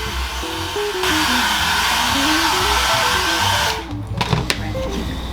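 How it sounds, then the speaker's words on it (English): A blow dryer roars close up while drying a freshly dyed leather shoe, a loud, steady rush that switches off partway through, leaving brief clattering handling sounds over faint background music. "Blow dry it to speed up the drying process."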